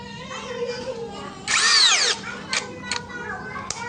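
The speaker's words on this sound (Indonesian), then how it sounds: "Mata bor kipas 24 mili. Coba kecepatan 2 dulu." A Kyoal 16V brushless cordless drill turns a 24 mm spade bit into material at a low speed setting, giving one loud rising whine lasting about half a second, then short bursts, over a steady motor hum.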